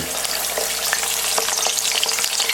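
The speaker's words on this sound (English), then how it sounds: "Now, this is deep frying, folks" Oil sizzles and crackles loudly as chicken wings deep-fry, a dense close bubbling hiss with scattered pops.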